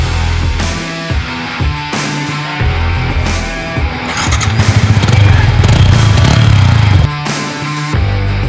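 A 2018 Yamaha R15 V3 motorcycle engine runs loud and close, revving up to a stronger roar in the middle before settling back, with no clear talk over it.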